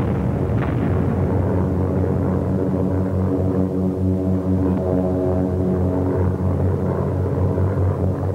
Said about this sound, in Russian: Волна вражеских самолетов